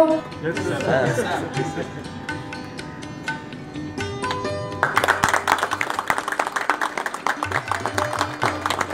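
An audience at an Indian Bottled Water Day 2017 event in Greater Mumbai breaks into brisk, dense clapping about halfway through, rising out of murmured chatter and tonal background sound and carrying on to the end.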